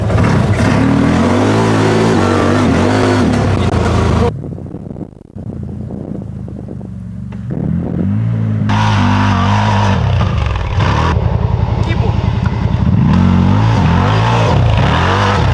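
A loud side-by-side off-road vehicle engine, a Segway Villain or CFMoto, revs and roars as it pulls away, with rough rumbling and wind buffeting close to the microphone.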